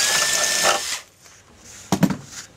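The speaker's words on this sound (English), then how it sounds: "just drill the hole out" A power drill bores out a hole in a Roamsafe door during installation, with a steady whirring burst for about a second, then a pause and a short, sharp second burst.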